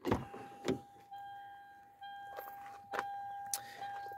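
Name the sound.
car key-in-ignition warning chime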